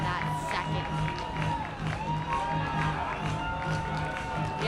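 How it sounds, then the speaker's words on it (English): Baseball crowd and both dugouts clapping and cheering at a Michigan Wolverines versus Washington Huskies game, a steady, dense roar of voices and applause with whoops throughout, and talk mixed in. "Both dugouts are on their feet, clapping and cheering, hoping for their team to come out on top in this inning."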